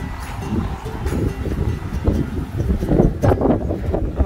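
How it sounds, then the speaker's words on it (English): Gusty wind blows across an apartment balcony, buffeting the microphone with a loud, rough rumble that rises and falls in surges, with faint rustling underneath. "Gosh, it's so windy."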